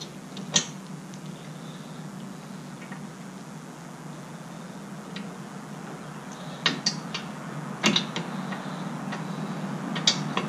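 Rear brake caliper bolts on a 2013-2020 Ford Fusion are worked with a ratchet, giving a few faint, sparse clicks over a steady low hum of garage noise.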